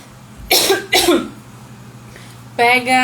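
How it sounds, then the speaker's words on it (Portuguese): A short coughing fit during a live stream: two sharp, close coughs about half a second apart, a quiet pause, then a voiced throat-clearing sound, over a low steady hum. "Ataque de tosse no meio da live não dá, né?"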